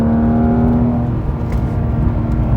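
A car accelerates along the Cherohala Skyway after braking, its engine drone loud and close inside the cabin with a steady low hum and a slowly shifting tone.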